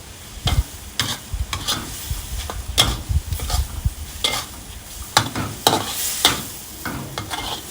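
Sesbania flowers and egg are stir-fried in a hot pan with garlic: a spatula scrapes and clatters in irregular strokes over a low, continuous sizzle, close and clear, with no talk.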